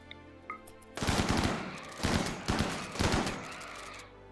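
Loud automatic video game gunfire erupts in three or four sustained bursts separated by short pauses, with a rumbling tail after each volley.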